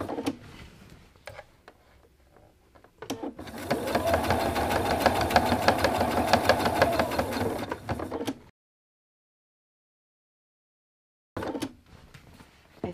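A home sewing machine runs steadily for about five seconds, stitching quilt binding at a quarter-inch seam, then stops. Quiet handling sounds come before and after, and there is a silent gap near the end.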